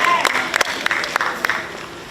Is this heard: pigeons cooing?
no